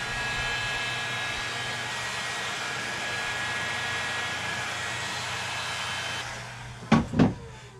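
A heat gun blows hot air onto boat wiring, a steady broadband rush holding for about six seconds before cutting off, followed by a couple of short knocks.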